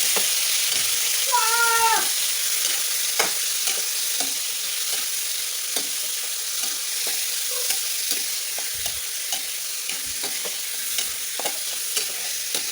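Meat hits a hot pan and is stir-fried, with a steady bright sizzle and scattered scraping taps from stirring; a cat meows briefly near the start.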